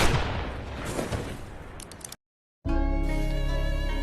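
Distant gunshot in an action film, a dense burst of fire and blast noise that cuts to brief silence, then resumes as a loud sustained roar with ringing tones.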